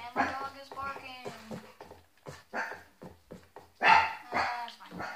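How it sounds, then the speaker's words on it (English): A dog barks in the background of Minecraft gameplay, with sharp barks scattered through the clip under and between a person talking. "And my dog is barking!"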